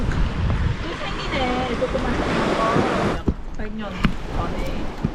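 Waves wash onto a mudflat shore on the west coast, heard as a steady, fairly loud roar that is gusty with wind. A couple talk over the surf.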